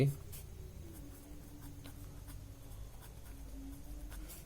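A pen writing on paper during a class 10 maths solution, faint close scratching strokes with soft taps, quiet and continuous against low room noise.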